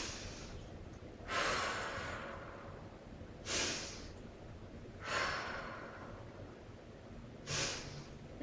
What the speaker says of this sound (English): Breathing in as we go down, noticing the cracks, and breathing out as we go back up.